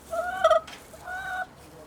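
Coral, a darker backyard hen, gives two short, close, tonal clucking calls in quick succession in a quiet setting.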